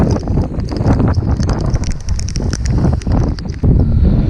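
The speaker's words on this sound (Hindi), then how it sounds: "हवा है बहुत सारा" Strong gusty wind at a beach in Manori, Mumbai, buffets the microphone in loud, rumbling surges, with scattered rustling and knocking throughout.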